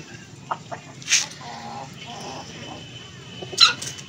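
Desi chickens cluck in short, scattered bursts with a louder call near the end, set against a steady low farmyard background while the birds drink glucose-laced water.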